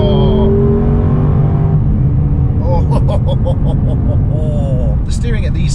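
A Lexus LC500 engine in manual mode roars loudly and steadily from inside the cabin, climbing in pitch through the revs with quick shifts, while a person talks over it.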